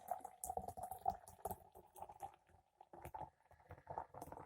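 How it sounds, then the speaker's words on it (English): Guinness Cold Brew Coffee Beer, 4%, poured from a can into a glass, a quiet gurgling glug and fizzing liquid stream, close and soft, with no talk. "So let's pour it out straight like we do and see what it's about."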